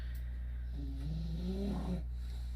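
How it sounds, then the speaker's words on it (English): A dog snoring nearby in a quiet room, a few low rumbling snore breaths rising and falling over about two seconds, with no talk over them. "it's not an episode without Millie snoring in the background, is it, huh"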